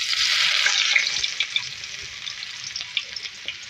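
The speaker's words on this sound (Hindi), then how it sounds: "हमने नाज़रीन कढ़ाई में ऑयल ले लिया है और इसके अंदर 2 मीडियम साइज की ऑनियन ऐड करेंगे" Two medium onions fry in oil in a kadhai with a bright, loud sizzle that eases slightly, broken by a few soft crackles and stirring taps.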